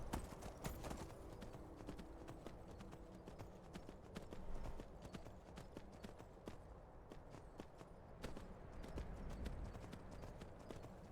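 Horse hooves clip-clop steadily on a hard surface at walking pace in Skyrim Special Edition, close and fairly loud, with no voices.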